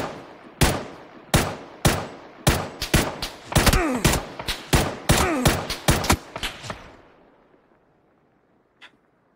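Rapid bursts of gunfire in PUBG: Battlegrounds ring out as a dozen or so loud, sharp shots in an uneven rhythm, then trail off into quiet with one faint distant shot near the end.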